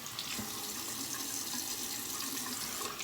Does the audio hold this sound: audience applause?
no